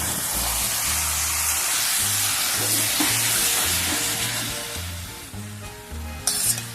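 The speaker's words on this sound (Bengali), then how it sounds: "এবার আমরা একটু জল দিয়ে নাড়ব" Bengali chicken kosha stirred in a pan after a splash of water, a loud steady sizzle with rhythmic low scraping strokes, easing slightly toward the end before a brief burst of hiss.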